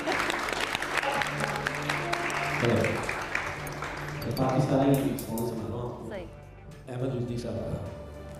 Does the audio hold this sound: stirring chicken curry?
no